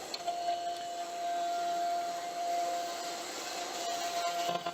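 Router table fitted with a chamfer bit set too high, cutting a wooden sign: a steady, fairly loud high-pitched motor whine with a continuous rough cutting rasp underneath, holding level for several seconds with slight dips near the end.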